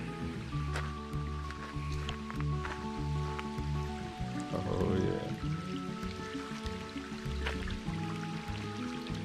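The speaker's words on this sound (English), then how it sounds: "One little waterfall going down through there, a little water slide really." A small waterfall sliding down a trail stream, a continuous splashing trickle heard close, with a louder gush near the middle and a short spoken remark over it.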